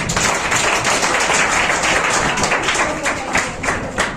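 Loud, sustained applause from a group of schoolchildren and adults in a classroom gathering, dense clapping running steadily throughout with faint voices mixed in.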